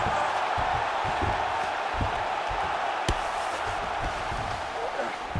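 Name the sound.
crowd cheering in the video game UFC 5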